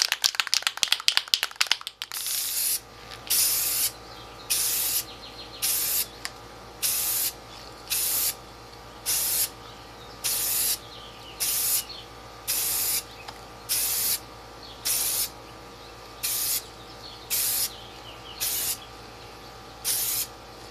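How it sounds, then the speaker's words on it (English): A spray can of black primer hisses onto a model aircraft fuselage in short, evenly spaced bursts of about a second each, repeated steadily and close, after an opening rattle of the can being shaken. "now I'm ready to paint the black portion of the fuselage. Got my black primer here."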